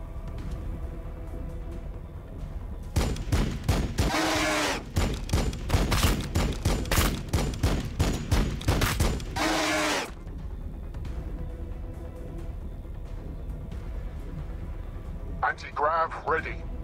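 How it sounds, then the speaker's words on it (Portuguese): Bursts of rapid gunfire fire at flying units in the video game Warhammer 40k Battlesector, a dense fusillade lasting several seconds, then quieter battle noise with a short electronic chirp near the end. "Vamos vir aqui e encher os voadores de tiro."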